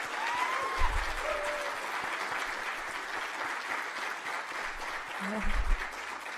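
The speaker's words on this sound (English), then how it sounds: "Could we all have a warm round of applause" An audience applauds the new director of the Newhouse Sports Media Center at the Marty Glickman Award ceremony, with steady, dense clapping throughout and brief voices over it.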